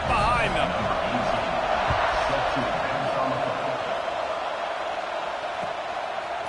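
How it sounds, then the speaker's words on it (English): A stadium crowd at an Arizona State vs. UCLA college football game keeps up a steady, broad roar at kickoff while a commentator talks over it. "They're set to kick it off, and this crowd now ready to get behind them"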